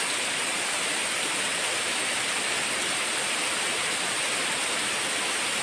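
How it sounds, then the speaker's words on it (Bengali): Steady rain pours down onto a pond during a dark thunderstorm, a dense, even hiss that stays constant and fairly close with no voices. "দেখতে পাবে কেমন বৃষ্টিটা হচ্ছে"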